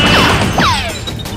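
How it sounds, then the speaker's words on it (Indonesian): A big toy gun fires a loud electronic sound effect, a sharp crash followed by descending sweeping whooshes close up, with no talk over it. "di sini ternyata ada tembakan besar"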